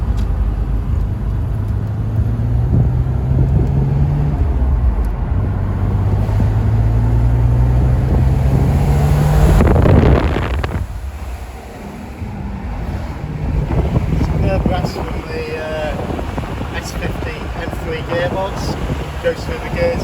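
A 1999 BMW Z3M Roadster engine climbs in pitch through the gears with a clear shift near the middle, heard from inside the open car under heavy wind rush, while someone talks over it.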